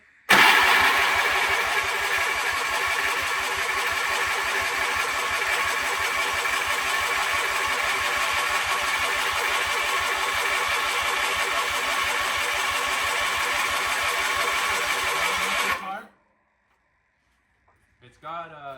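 An old Sears engine cranks over in a long, steady, rapid mechanical churning rhythm for about sixteen seconds without catching, then stops, leaving near silence with brief faint sounds at the end.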